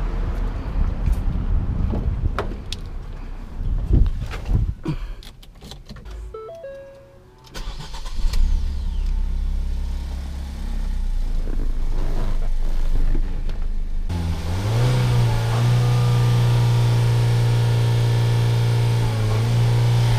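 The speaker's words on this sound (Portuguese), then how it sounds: "Ele vai até 4 mil giros, não passa lá" A 2017 Ford Focus 2.0 engine cranks and catches, then revs up and holds at a high, buzzing steady pitch as if bouncing off the limiter around 4,000 rpm.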